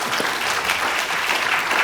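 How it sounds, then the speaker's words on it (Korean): Audience applause at a parliamentary suicide-prevention forum and international seminar, welcoming a panel speaker: steady, dense clapping from a full room, continuous and loud throughout with no voices on top. "조재훈 대표님 큰 박수로 환영해 주시기 바랍니다"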